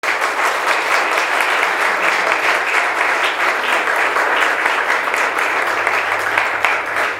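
Church congregation applauding, a loud, sustained crowd of clapping hands that continues evenly throughout without a break or any speech.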